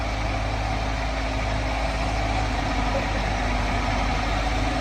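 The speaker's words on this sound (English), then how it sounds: "Run the extendahoe out there for you." 2002 Case 580M backhoe with a rebuilt engine, running its extendahoe: a steady, loud diesel rumble with a constant low hum, close and unbroken, no talk.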